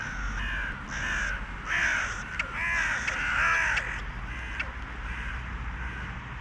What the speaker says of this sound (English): Listen to those wonderful sounds of our little crows.